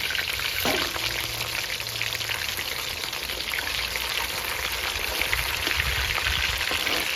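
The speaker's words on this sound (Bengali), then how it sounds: "এক পিস ভাজা হয়ে গেছে এবার আমি আর এক পিস উল্টে দিচ্ছি" Steady crackling sizzle of chicken pieces frying in hot oil over low flame, continuous and fairly loud, with a couple of faint knocks and no voices.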